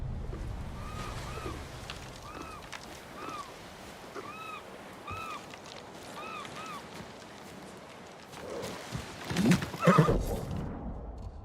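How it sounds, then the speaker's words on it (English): Horse hooves clip-clop steadily under a wash of outdoor ambience in the video game Ghost of Tsushima, then a sharp, rising whinny near the end, fairly faint overall with no talking. "You're a good horse, Kage."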